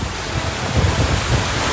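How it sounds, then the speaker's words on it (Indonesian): Strong wind with heavy rain sweeps over Kuala Kampar in Pelalawan, Riau, a loud, continuous roaring rush with heavy buffeting gusts against the microphone and no voices. "Inilah video amatir saat angin kencang menerjang kawasan Kuala Kampar, Pelalawan, Riau."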